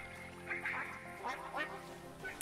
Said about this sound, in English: that's a huge flock of mallards